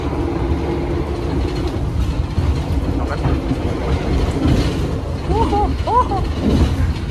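The KA Taksaka passenger train speeding at 116 km/h, heard from inside as a loud continuous rumble and rattle with rhythmic clatter of wheels and car body, plus faint squeals, without pause.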